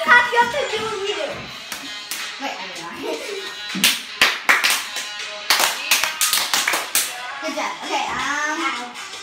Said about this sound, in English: So whatever we clap, you have to do what we do